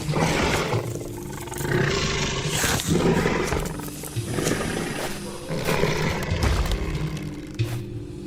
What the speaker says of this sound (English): elephants grumbling, and even my own grunts and snorts and snarls are thrown in there as well